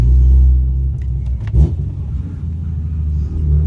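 A BMW M3 from Japan being driven, its engine a low steady rumble from inside the car with a brief louder surge midway, and no talk.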